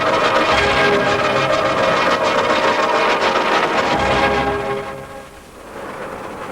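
A South African Railways electric locomotive rumbles past with a loud, steady roar that fades away, leaving a lower rushing hum afterward.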